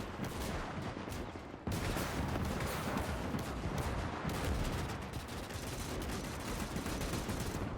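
Bursts of .50 caliber machine gun fire in the Gates of Hell war game, dense rattling fire over a busy battle din, continuous and fairly faint overall.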